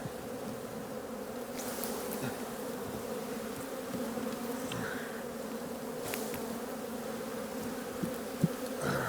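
A dense, steady drone of many honey bees buzzing close by as they are shaken into a nuc hive, with a few sharp knocks and shuffles near the end.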